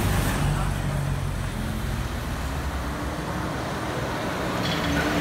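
Road traffic on a Zanzibar street, with a bus among the vehicles, gives a loud, continuous rumble and hiss close by throughout, while a voice talks faintly underneath.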